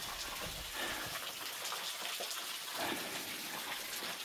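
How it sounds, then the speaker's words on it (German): A waterfall on a hiking trail produces a faint, continuous, even rush of falling water. The noisy wash holds steady for several seconds with no voices over it. "Also hier der Wasserfall wieder."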